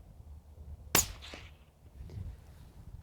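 A single suppressed 5.56 rifle shot through a CAT WB Ti titanium suppressor, a sharp muted crack followed by a brief outdoor echo, quiet and fairly close.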